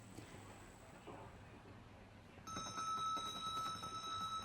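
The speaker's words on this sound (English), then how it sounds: "That's the bell for Matthew Dickey and Waitangi Imac" A show jumping arena's start bell rings out as a clear sustained electronic tone that begins partway through, over a quiet outdoor background at an equestrian competition.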